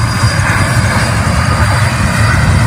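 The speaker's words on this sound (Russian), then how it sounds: "Смотрим, как вертолет взлетает." Helicopter at a zoo spinning up its rotor to take off, a loud steady engine roar with a low throbbing rumble that fills the whole stretch without talk.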